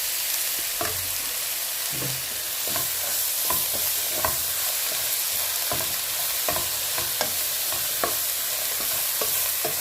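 Onions frying in hot oil for a sardine curry, a steady bright sizzle broken by regular scraping and clinking taps of a spoon stirring in the pan, with no talk.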